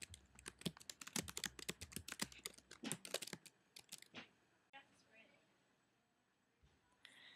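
Rapid typing on a computer keyboard while building a SmartArt graphic, a quick run of close, crisp key clicks for about four seconds, then quieter with a few scattered taps.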